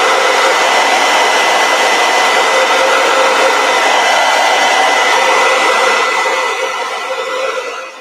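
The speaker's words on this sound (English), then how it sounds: "Use my hair dryer again." A handheld hair dryer runs on its cool setting, a loud steady whirring blow that holds constant and then eases slightly near the end, with no talking.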